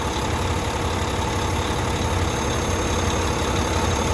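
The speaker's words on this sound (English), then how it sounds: "we've been idling for about 10 minutes now." A heavy truck engine idles steadily and loudly nearby, a constant low rumble with no talking.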